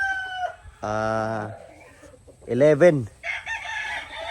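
Roosters crow loudly and close by, one long drawn-out call followed by a second wavering crow, with lighter clucking from a batch of fighting cocks being readied for conditioning. Someone talks between the calls.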